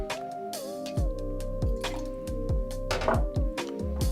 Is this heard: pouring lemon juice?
yes